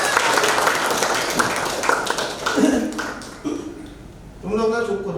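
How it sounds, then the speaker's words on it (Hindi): Students in a classroom clap for a classmate, a scattered patter of hands mixed with loud children's chatter and shouting, with a voice speaking clearly near the end. "जरा ताली बजाइए इनके लिए।"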